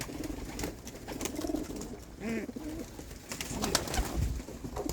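Backyard pigeons coo in soft, low repeated phrases against steady outdoor background noise, with a few faint chirps and rustles mixed in.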